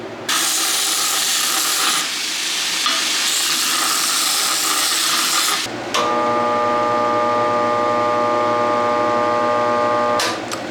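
A failing bandsaw motor in a workshop where ladder Damascus steel is being made. A loud steady rushing drone shifts abruptly partway through into a strained, humming whine with a distinct tonal buzz, then cuts out near the end.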